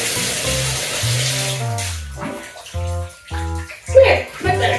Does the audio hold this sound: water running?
yes